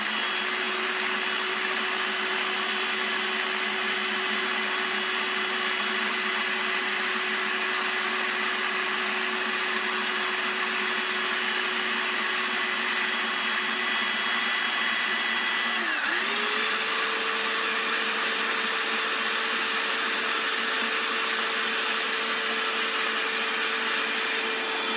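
A blender whips eggs into oil for mayonnaise, a loud, steady motor whine that holds for a long stretch, then shifts pitch partway through as the speed changes, and carries on without talk.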